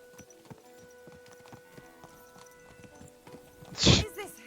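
A horse in the medieval game Kingdom Come: Deliverance II walks with a rhythmic clip-clop of hooves, then lets out a loud, close whinny near the end.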